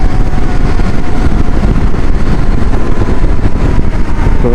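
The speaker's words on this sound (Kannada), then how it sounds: "ಎಲ್ಲ 390 ಗಾಡಿಗಳು ಎಲ್ಲ ಫುಲ್ ಜೋಶಲ್ಲಿ ಗಾಡಿ ಹೋಗುತ್ತೆ" KTM 390 motorcycles riding together on a group ride toward T. Narasipura: a loud, continuous roar of engines and road rush with dense wind buffeting close to the rider, without a break.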